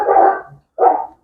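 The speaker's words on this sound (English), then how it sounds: "Those are dogs right there." Two loud, close dog barks with a short pause between them, the first slightly longer, heard alone against silence.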